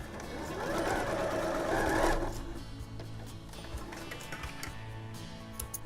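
A sewing machine stitches a pair of culottes, running fast and loud for about two seconds and then continuing in a lighter, ticking patter close by.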